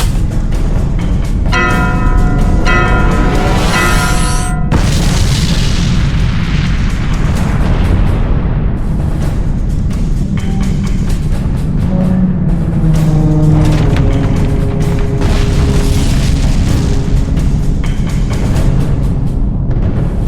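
Detonated torpedo warhead in a game scene, a heavy booming blast with rumbling low roar and crackling debris, bursts of ringing metallic tones layered over a continuous loud, dense explosion wash; no speech.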